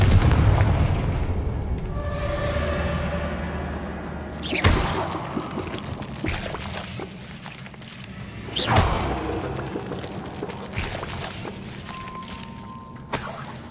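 Confringo blasting spell from the game Hogwarts Legacy, two sharp booming explosive bursts a few seconds apart amid game ambience and whooshes, with no talk.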